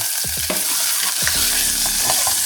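Onion, garlic and ginger sauté together in hot oil for a chicken dish: a loud, close, continuous sizzle and crackle with quick stirring scrapes, and a low hum from a burner or fan underneath.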